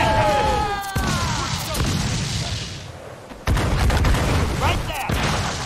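Cannon broadside fire in Assassin's Creed IV Black Flag, heavy booming blasts at about one and three and a half seconds with crackling gunfire and battle noise, shouted voices underneath.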